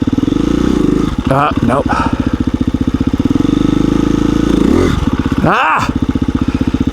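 A KTM 350 EXC-F dirt bike engine chugging loud and close as the clutch bites, a pulsing low thump that bogs and recovers twice, with a man's brief exclamations over it.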